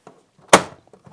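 A single sharp plastic pop as the small side door comes off a Dremel DigiLab 3D45 enclosed 3D printer, close and brief, with faint handling clicks before and after.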